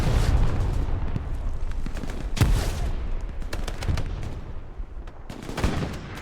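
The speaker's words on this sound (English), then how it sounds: "Unknown where the shots are coming from." Gunfire in the video game Hell Let Loose on the Omaha Beach map during a league match: dense, loud rifle and machine-gun bursts with several sharp cracks and rumbling echoes throughout.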